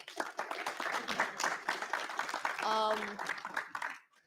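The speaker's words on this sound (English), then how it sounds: "let's give them all one last round of applause" Audience applause at a student organization's general body meeting after its executive board candidates are presented, a sustained round of clapping from a room of people with voices and cheering mixed in, fading out toward the end.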